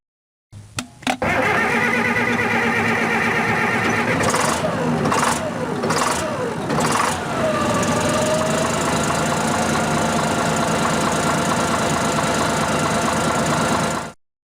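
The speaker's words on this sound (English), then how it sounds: "you can hear the engine cranking and starting" A Cat engine cranks with a few rough turns, then catches and settles into a loud, steady running drone close by.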